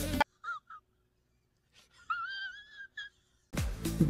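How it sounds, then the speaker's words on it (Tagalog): Chickens at a busy open-air market in Balintawak, Philippines, give a few short squawks and a longer strained call between louder bursts of crowd and traffic noise. "Ayan, kabayan ko, manok ha."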